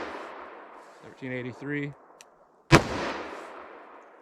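A single sharp, loud handgun shot firing .44 Magnum or 10mm Buffalo Bore lead-free ammunition outdoors, with a short echoing tail, after someone briefly speaks in a quiet setting.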